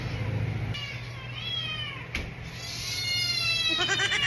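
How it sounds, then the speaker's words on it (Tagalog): A cat meows loudly several times in drawn-out, wavering cries, close by, over a steady low hum. "Sobrang ingay ng pusa ko."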